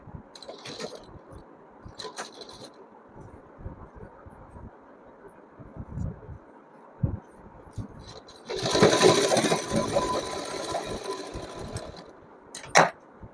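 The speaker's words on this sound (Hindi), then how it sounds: "इस प्रकार रखते हुए इसको इसमें स्टिच कर देंगे।" A sewing machine stitches cotton fabric for a holiday outfit, with short whirring bursts early, handling clicks between, then a longer steady run of stitching near the end, close and moderately loud with no talking.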